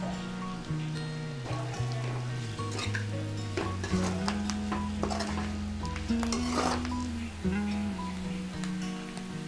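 Boiled potato fry sizzles in a pan while being stirred, a steady close crackle with repeated scraping strokes throughout, with music playing underneath.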